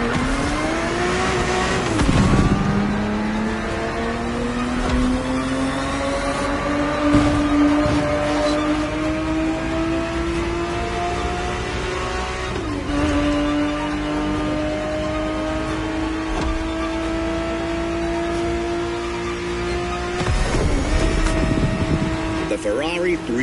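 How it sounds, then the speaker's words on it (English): Ferrari 365 GTB4 engine in The Crew Motorfest, a 1970s Ferrari racing car revving through rising gear pulls with clear shifts, a loud close engine tone climbing and dropping repeatedly while a voice speaks over it. "The Ferrari 365 GTB4 is the perfect vehicle for you to experience Ferrari racing as it felt back in the 70s"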